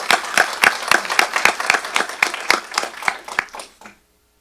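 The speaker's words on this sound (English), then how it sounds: "Once again, a round of applause." A small audience at a quarterly board meeting gives a short round of applause, close and fairly loud irregular hand claps that fade out after about four seconds.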